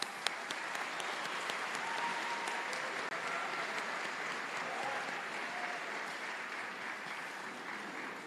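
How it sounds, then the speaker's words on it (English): An audience at a high school all-county band concert applauds a band coordinator. The clapping is a steady, dense, moderately distant wash that lasts throughout, with a few scattered sharper claps at the start. "let's go ahead and give him a round of applause"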